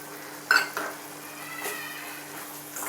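Mushrooms sautéing in a pan for mushroom dosa filling, a soft low sizzle with a couple of sharp utensil clinks against the pan near the start, fairly quiet overall.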